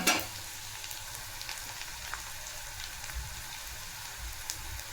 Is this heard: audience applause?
no